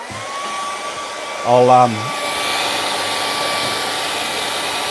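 A hair dryer drying paint on a city skyline canvas blows as a steady, fairly loud whine with a constant hum, after a brief spoken word from a nearby voice.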